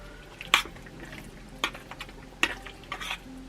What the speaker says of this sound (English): So I'm going to stir everything in with this spoon for right now